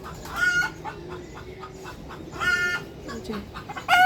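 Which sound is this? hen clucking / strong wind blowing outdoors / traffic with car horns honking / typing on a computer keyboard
hen clucking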